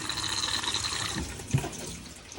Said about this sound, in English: After use, if you give it a good flush with the blue button